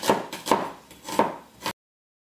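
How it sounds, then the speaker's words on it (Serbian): A knife chops onions on a cutting board in a few sharp, uneven strokes, close up, with no talking. "Izrežite na sitnije komade."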